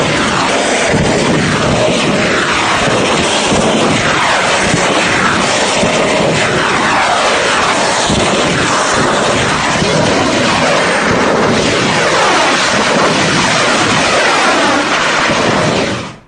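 Blasts from an Iranian drone and missile strike on Tel Aviv rumble on for about sixteen seconds as a dense, loud, continuous roar of thunderous booms and crackling, with no talk.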